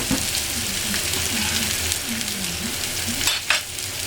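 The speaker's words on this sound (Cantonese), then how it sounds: "銀鏈肉落去啦，爆下佢啦" Chinese olive (ren ren) flesh with its paste stir-fried in a wok, a dense continuous sizzle with close scraping strokes of the spatula and a sharper clatter near the end.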